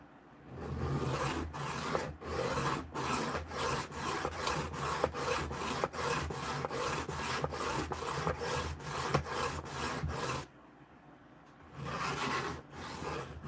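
A working knife is drawn again and again across a sharpening stone, giving a steady series of close, gritty rasping strokes with a brief pause near the end.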